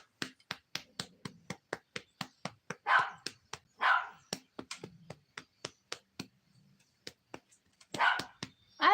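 A dog barks in a rapid, rhythmic string of sharp, close barks, pausing briefly and then resuming with a few louder, longer barks.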